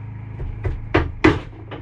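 A screwdriver prying a metal clamp off a gas strut on an RV bed lift, giving a few sharp clicks and knocks in quick succession, the loudest near the end, close up over a low hum.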